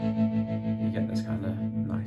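Electric guitar pulsing with tremolo and driven by distortion, playing a part from a song, with steady held chords that throb in a quick even rhythm, fairly loud and up close with no one talking.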